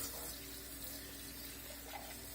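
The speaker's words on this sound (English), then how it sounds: "rinse it in cold water" Cold tap water runs steadily into a kitchen sink while a whole raw chicken is rinsed under it, a quiet continuous splashing flow with no talking.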